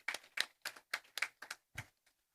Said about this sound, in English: Clap for yourself, please.